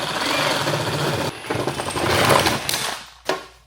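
Power tool cutting a piece off the front bumper of a supercharged Audi S5, a loud harsh buzzing grind with brief pauses and a final short burst.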